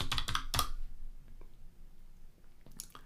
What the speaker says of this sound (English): Now I just need to type make.